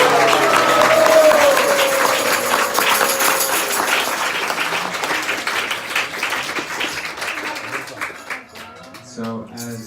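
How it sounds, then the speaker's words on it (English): An audience gives a big round of applause to Radhanath Swami, dense clapping loud at first and fading gradually, with a few voices and a whistle-like tone early on. "Go ahead and give him a big round of applause."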